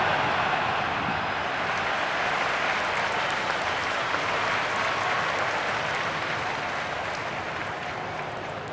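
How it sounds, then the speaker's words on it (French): A football stadium crowd roars and applauds after a goal, a dense, steady wall of cheering that holds for several seconds and fades slightly toward the end. "La foule aura explosé, à juste titre."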